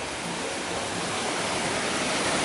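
A river's water rushes in a steady, loud, broadband flow, continuous and close with no voices over it.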